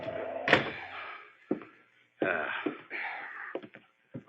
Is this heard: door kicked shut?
yes